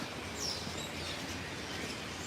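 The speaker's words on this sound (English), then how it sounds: "You hear all the birds in these trees." Birds chirping in the trees near the Spanish Steps in Rome, faint high calls scattered over a steady wash of outdoor city ambience.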